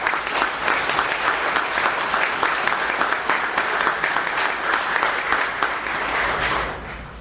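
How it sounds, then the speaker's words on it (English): Loud, sustained applause from an audience at a chamber of commerce ribbon cutting ceremony, dense clapping that holds steady for several seconds before tapering at the end. "please give them a big round of applause"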